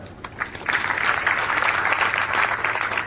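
An audience at a Christian preaching gathering claps together, starting softly and swelling into sustained, even applause that continues to the end.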